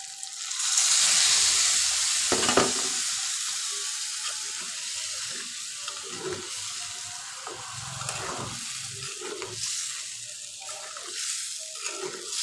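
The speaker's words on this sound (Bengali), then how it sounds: "মাংস আর আলু একসাথে ভাজছি" Chicken, potatoes and garlic sizzle steadily frying in a pot, continuous throughout, with occasional scraping and stirring clatter up close.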